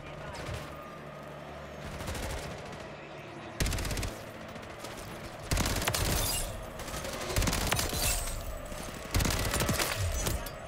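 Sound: SMG gunfire in video game Modern Warfare 3

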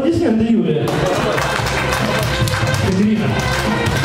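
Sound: audience applause at a wedding contest

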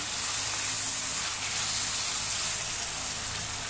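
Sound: dill leaves sizzling in oil with tomato

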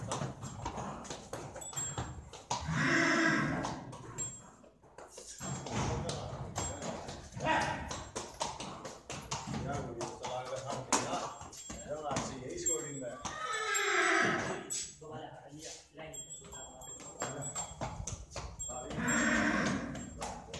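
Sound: mare neighing and hooves clip-clopping

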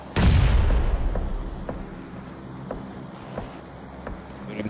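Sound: bomb explosion in a video game

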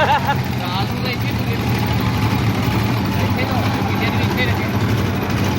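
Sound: turbocharged tractor engine sputtering

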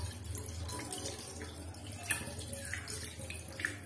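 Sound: washing in kitchen sink under running water

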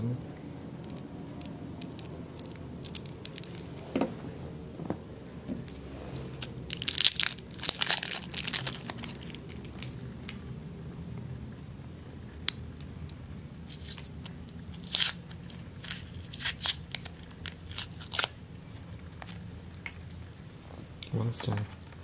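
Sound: cutting material to make a laptop cooling stand

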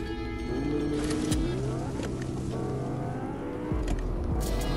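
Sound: Lamborghini car engine in Fortnite video game

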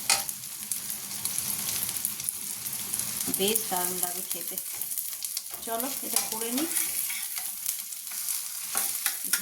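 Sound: egg frying in a pan

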